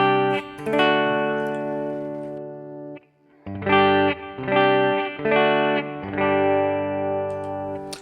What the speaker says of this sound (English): This is my clean sound.